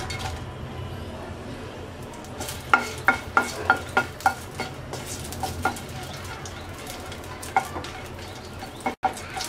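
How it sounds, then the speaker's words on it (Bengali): Seven or eight dried red chillies fry in hot oil in a pan, giving a steady close sizzle with sharp spoon clicks and scrapes as they are stirred, while birds coo faintly in the background. "তেলটা গরম হয়ে গেছে, দিয়ে দিচ্ছি 7-8টা শুকনা মরিচ।"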